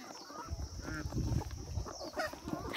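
Black chickens in a flock squawking and clucking in alarm as they are caught, short harsh calls close by, with faint voices in the background.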